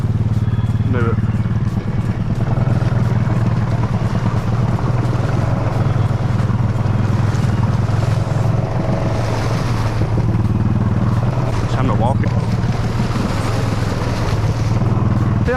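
A Honda Foreman ATV with diff lock churns through a deep muddy pond, its engine droning loud and steady throughout with splashing and sloshing water layered over the low motor rumble.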